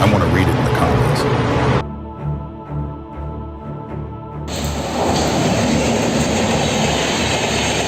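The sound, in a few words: train passing on railway tracks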